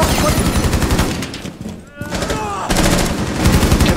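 Loud, rapid machine gun fire from the video game Rainbow Six Siege rattles in long bursts, with a brief lull in the middle, as players talk over it.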